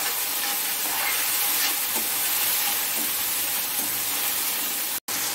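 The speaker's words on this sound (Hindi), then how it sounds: "हाई फ्लेम पर इसको भी हम पकाएंगे।" Onions and tomatoes fry in a pan over a high flame for kadhai paneer, giving a steady, close, bright sizzle and hiss that runs continuously with a few faint stirring clicks before a brief cut near the end.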